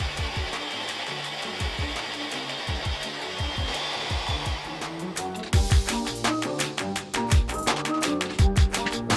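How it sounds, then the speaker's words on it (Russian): An electric mixer whips egg whites with salt and a little lemon juice, a steady whirring motor under repeated sharp beater clatter against the bowl, growing louder and busier partway through. "Взбиваем в миксере 20 минут, сначала на маленькой скорости, а затем ее увеличиваем."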